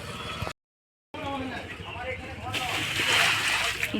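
Water is splashed onto dusty ground out front on a hot summer morning, a sloshing spray that builds to a brighter, hissing burst toward the end, with voices talking over it.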